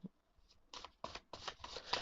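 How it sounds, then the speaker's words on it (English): A new oracle card deck being shuffled by hand, a few quiet riffling bursts of cards one after another, close and soft with no talking. "let's take a look and see how it shuffles"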